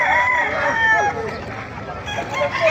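Several roosters crow loudly and overlap one another, with clucking hens and faint voices mixed in nearby, at a gamefowl farm in Bukawi.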